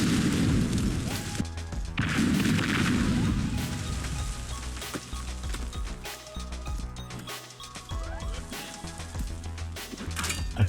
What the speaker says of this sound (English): the base was empty, so we used every bomb we had left.